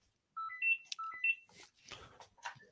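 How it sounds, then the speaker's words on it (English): A mobile phone's ringtone plays as a short melodic series of bright electronic tones, followed by rustling and handling noise as the ringing stops. "That's my phone just gone off."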